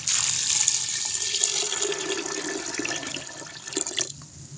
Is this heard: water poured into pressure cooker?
yes